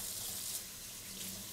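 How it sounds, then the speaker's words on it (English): Warm tap water runs steadily into a sink during handwashing with soap, a close, even splashing rush that holds for a moment with no voices. "Start by washing your hands with soap and warm water."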